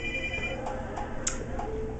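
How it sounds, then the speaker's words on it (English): A phone rings with a few short electronic tones spaced evenly apart, heard faintly in a room over a steady background hum. "phone's ringing."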